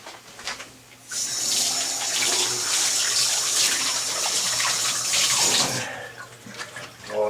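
Water runs hard from a tap to rinse off a spray gun during a copper stack replacement, a loud steady rush lasting several seconds between quieter handling sounds, with no talk.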